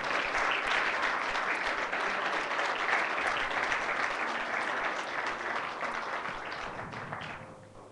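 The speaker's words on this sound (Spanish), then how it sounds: "Denle un aplauso fuerte al Señor." A church congregation applauds loudly and steadily for the Lord during a Spanish-language service, a dense wash of many hands that keeps going and tapers off slightly near the end.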